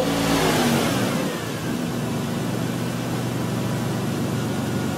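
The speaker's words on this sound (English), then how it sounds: "Hold your RPM at like 2 grand for a minute. We'll warm this up." A 2000 Lexus RX 300 engine revs high for about a second, then falls back to a steady low idle hum with a sustained tonal drone.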